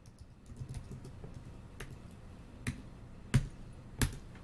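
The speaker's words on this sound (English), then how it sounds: "That's my intense typing on a keyboard" Sparse, sharp keystrokes tap out on a computer keyboard, a few louder clacks near the end, close and otherwise quiet.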